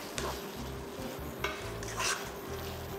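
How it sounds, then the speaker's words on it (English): A utensil scrapes and stirs scrambled eggs with tomatoes in a sizzling pan, making repeated rhythmic strokes with a few sharp clinks against the pan, close and clear. "Break the eggs up into large chunks, about the size of the tomatoes."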